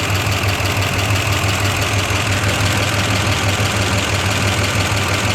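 Jeep J20 pickup truck engine running at idle on alternator power alone, a loud, steady, close rumble with a regular low throb and no voices.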